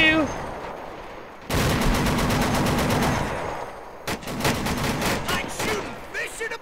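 A .50 cal machine gun fires in the Men of War Assault Squad 2 video game in two long, rapid, loud bursts separated by a brief lull, with a faint voice underneath.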